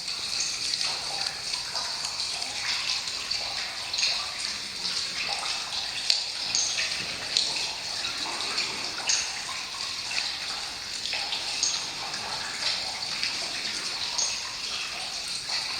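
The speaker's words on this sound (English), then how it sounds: "It's a little harder down at this end because there's a lot of water dripping." Water drips and trickles steadily inside the Blue Ghost Tunnel, a dense wash of small splashes and patters echoing continuously throughout, fairly close and with no voices.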